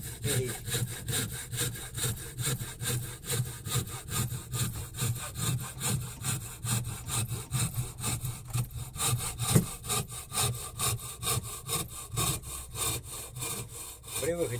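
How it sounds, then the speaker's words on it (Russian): Wood cut by hand with a piece of broken band saw blade, a steady rhythmic back-and-forth rasp of strokes, close and continuous throughout. "Я немножко бочком, чтобы было видно, как я пилю."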